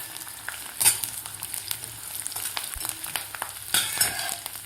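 Garlic, ginger and slices of dried coconut sizzle in hot oil for a spiced bitter gourd dish, a close, steady crackle with a couple of louder spatters and light stirring.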